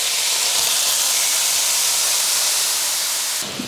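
Steak browning in a hot pan over medium-high heat for a braised steak, a loud, steady sizzling hiss that holds constant, then drops slightly at the very end, with no talking.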